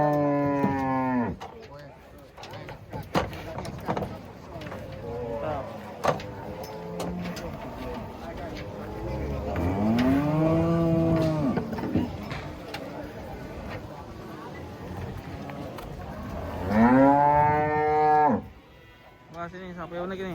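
Large, unusually coloured cattle unloaded from a truck, giving several deep, drawn-out moos spaced apart, close and loud, with people talking in the background.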